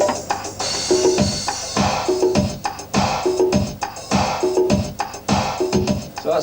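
Looped programmed drum pattern from a 1990 studio session, congas, tambourine and hi-hats repeating in a steady, busy groove with regular accented hits, loud and continuous with no voices.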